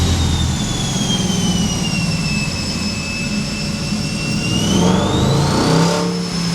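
A Challenger 5.7 Hemi engine on a dynamometer roars steadily at high revs with a whining harmonic tone, then the pitch climbs as it revs harder near the end, loud and close.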